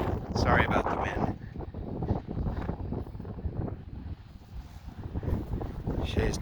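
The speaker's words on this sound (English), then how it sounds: "Sorry about the wind." Gusty wind buffeting an outdoor microphone near a river house, a steady low rumble with stronger surges throughout, under a man's speech.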